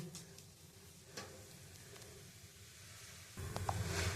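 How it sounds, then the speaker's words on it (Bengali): Bay leaves and whole cumin seeds sizzling in hot oil for Kashmiri aloo dum, a steady low crackle and hiss that grows louder near the end. "আমি ওই তেলের মধ্যে দুটো তেজপাতা আর একটু গোটা জিরে দিয়ে দিচ্ছি।"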